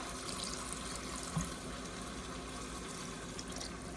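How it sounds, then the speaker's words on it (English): Water pours steadily from a tap into a cooking pot while preparing venison in red wine, a faint continuous splashing fill with no talk and one soft knock partway through. "And I'm going to put some water."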